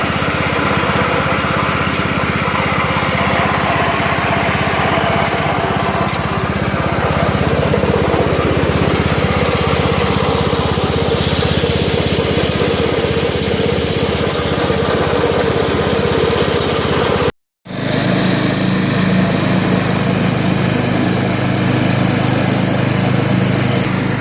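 A Stiga Park 2000 ride-on mower engine runs steadily and loudly up close. The buzzing drone holds for the whole stretch, broken only by one very brief cut near the end.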